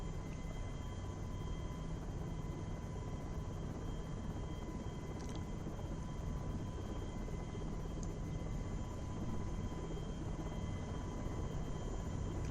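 A simulated helicopter in the FSX / P3D flight simulator drones steadily with a low rotor rumble and constant engine hum, unchanging throughout.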